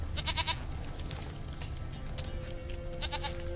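A goat in the Witcher 3 game world gives a few short nasal bleats over a low ambient background, with a pause between them and a faint tonal hum later on.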